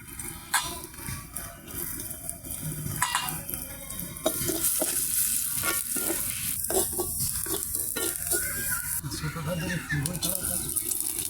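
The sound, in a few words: garlic and chopped onion being stir-fried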